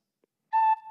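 A tin whistle sounds one gentle, pure, steady note with the first hole covered, starting about halfway through after a brief faint click and sustaining quietly to the end.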